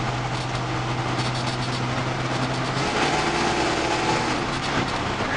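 Engine of a 1968 Chevy C10 pickup truck accelerating sluggishly, a continuous droning rumble with a slight pitch shift partway through, heard from inside the cab with road noise.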